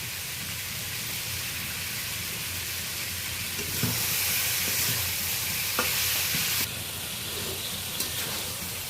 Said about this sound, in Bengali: মশলার সাথে পটল আলু দিয়ে ভালো করে কষিয়ে দেব।